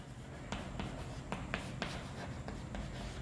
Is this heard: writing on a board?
yes